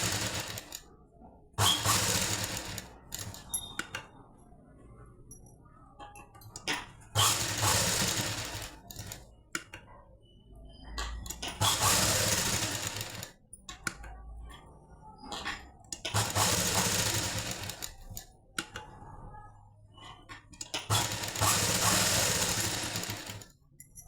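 An electric sewing machine stitches a blouse lining in four long runs of fast, loud, rattling whirr. Quiet gaps with faint handling sounds separate the runs.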